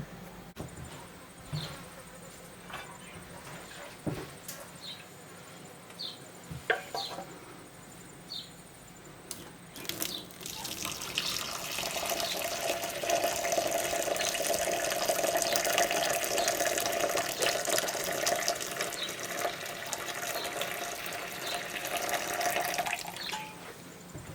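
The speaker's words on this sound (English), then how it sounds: "I'm going to strain it through some mutton cloth or cheesecloth or whatever you want to call it." Feijoa flower syrup poured through cheesecloth gives a steady trickling, splashing pour that swells after a few quiet clinks and handling noises, continuing close and fairly loud to the end.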